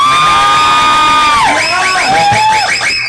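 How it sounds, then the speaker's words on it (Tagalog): An audience cheers for a champion with loud, close whoops and high shouting voices that rise and fall over about three seconds; clapping is not clearly separate from the cheering. "palakpakan nyo naman!"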